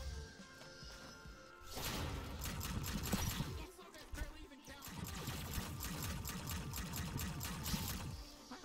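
Rapid automatic gunfire from the video game High on Life: sustained bursts of fast, evenly spaced shots with a short pause in the middle, then more firing. Other game sounds blend in, and quiet talk may sit under it.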